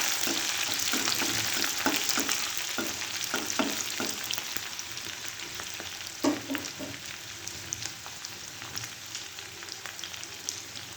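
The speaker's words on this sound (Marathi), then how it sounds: "आता आपण लसूण आणि कांदा टाकला" Garlic and onion fry in a pan for a mung bean dish, a steady broadband sizzle running throughout with repeated soft scraping stir strokes and occasional louder clinks, close and even, no voices.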